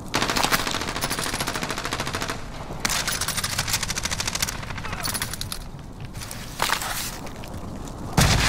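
Sustained automatic gunfire in Call of Duty Warzone, with dense rapid bursts nearly continuous throughout, loud and close, with brief gaps and sharper single shots near the end.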